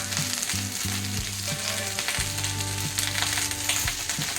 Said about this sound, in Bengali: এবার এটাকে হাফ ফ্রাই করলাম, একটু মিডিয়াম বা লো ফ্লেমে রেখে একটু আধা ফ্রাই আমি করে নেব।